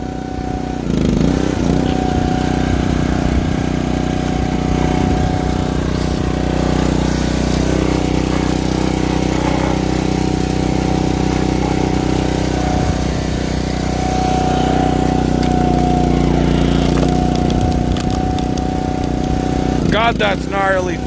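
A Speeco Split Master log splitter's engine runs loud and close at a steady drone for the whole stretch, with voices over it.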